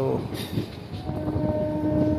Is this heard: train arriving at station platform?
yes